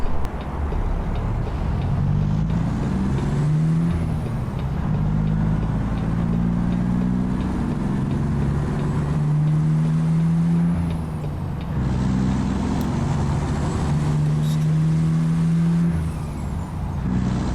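A heavy truck engine drives along a countryside road in American Truck Simulator, a steady deep diesel drone that rises and falls through gear changes, with a faint high whine above it.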